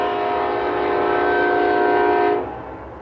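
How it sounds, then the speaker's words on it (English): A train horn blares loud and sustained for over two seconds, its chord of steady tones sitting on the rumble of passing rail cars, then cuts off and leaves the train noise trailing. "Loud ass fucking train."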